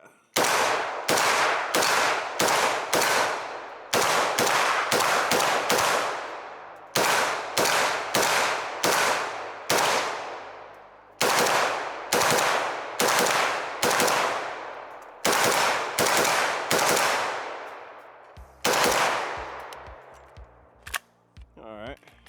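A gun fired through a 40-round magazine in rapid, close, loud bursts of sharp cracking shots, separated by short pauses, with scattered lone shots near the end.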